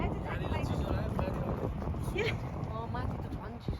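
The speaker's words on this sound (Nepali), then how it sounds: "कस्तो चिसो हावा चले है।" Cold night wind gusts across a mountain campsite at Jebel Jais, buffeting the microphone in a constant low rush while people talk and react nearby.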